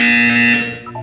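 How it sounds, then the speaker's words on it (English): A steady electronic buzzer tone in the video game Portal 2 sounds loudly for about half a second, then fades and wavers into a softer tail. "You will hear a buzzer."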